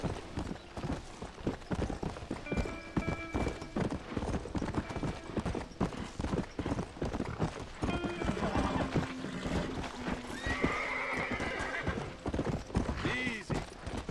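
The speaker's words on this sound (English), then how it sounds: "aqui também é seta pra cima para chamar o cavalo" A horse in Red Dead Redemption on PC neighs and gallops with steady hoofbeat clip-clop running throughout, mixed with game music and effects while someone speaks over it.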